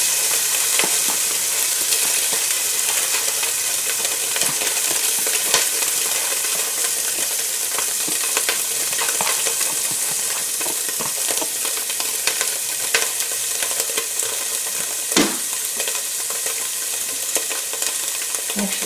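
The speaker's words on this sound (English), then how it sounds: "Add the diced bacon and cook until crisp and brown." Diced bacon fries in garlic-infused olive oil in a pan, a loud, even sizzle that holds throughout, broken by scattered pops and a few stirring scrapes, with no talk.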